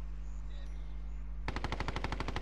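Automatic gunfire in Call of Duty: Modern Warfare. A steady low background hum gives way halfway through to a rapid burst of about a dozen rounds in a fast, even rhythm, moderately near.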